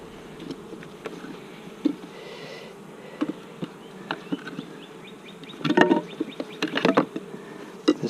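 Honey bees buzz around an open hive during an inspection, a soft low hum with individual bees droning past close by, plus scattered clicks and taps of handling frames.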